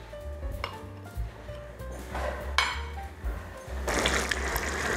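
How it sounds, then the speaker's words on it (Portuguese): Pasta sauce cooks in a pan, bubbling and sizzling with occasional spoon clinks and stirring scrapes; the sizzle swells louder near the end, with a low hum underneath and no talking. "Agora vamos deixar cozinhar"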